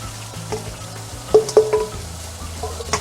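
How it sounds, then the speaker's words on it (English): Coconut vinegar adobo sauce is poured back into a hot pot of chicken wings, setting off a steady close-up sizzle broken by a few sharp clatters and stirring knocks. "we're going to add the sauce back to the pot"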